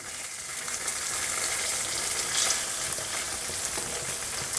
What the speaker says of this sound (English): So I'm going to make sure when I fry my tofu,